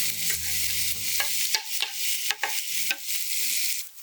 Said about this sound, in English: Add the chicken meat to the pan and fry in the juices from the skin.